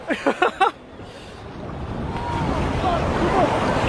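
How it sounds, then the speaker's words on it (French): Ocean waves wash and roll in a steady rising surge along a Korean shore, with wind buffeting the microphone; a few short voice bursts come first. "C'est quoi ces vagues?"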